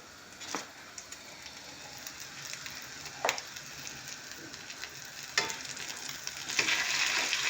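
Egg-soaked bread with cheese, green onion and spices sizzles steadily in a pan, a soft continuous fry broken by a few sharp scrapes of a spatula turning and pressing it, with no talk.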